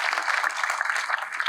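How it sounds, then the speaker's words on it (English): Audience applause at a commencement ceremony, greeting a councilmember as he is introduced; steady, dense clapping from a crowd, moderately loud and continuous, with no voices over it. "Councilmember Kent Edmondson, give him a round of applause."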